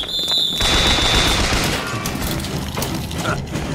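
Rapid bursts of gunfire in the video game Bioshock Infinite, loud and dense mechanical firing that fills the short stretch.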